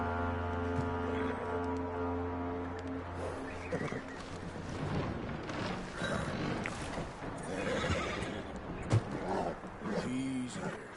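A horse in Red Dead Redemption 2 whinnies and snorts amid clopping hooves and rustling movement, with a voice talking over parts of the clip and a sharp sound near the end.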